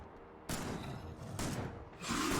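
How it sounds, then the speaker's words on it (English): Bursts of shotgun fire in the video game Factorio crack out as three loud blasts about a second apart, each one a broad, noisy surge that cuts through the quieter background. "Let's see if we can do this with the shotgun"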